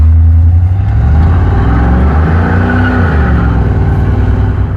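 A worn-out beater car accelerates up a highway on-ramp, heard from inside as a loud, steady engine drone that rises in pitch through the gears, with road rumble underneath.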